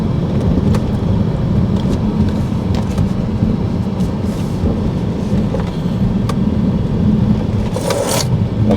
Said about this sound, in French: On entend juste la clim.